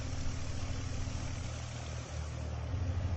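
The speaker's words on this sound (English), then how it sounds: "Right now we're watching the DA-40 taxi out to the runway for departure." A DA-40 aircraft in a flight simulator game taxis toward the runway, its engine idling with a steady, faint low hum and slight fluctuation.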